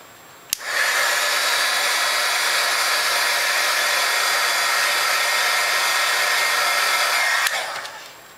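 A heat tool blows continuously to set glitter on a paper snowflake ornament, a loud steady hot-air whoosh that clicks on, holds for about seven seconds, then clicks off.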